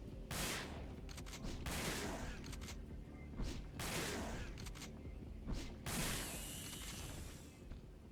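Shotgun blasts in Resident Evil Dead Aim, fired at hunter creatures: four or five heavy booming shots spaced about a second or two apart, each trailing a short echoing decay, loud and close with no talk.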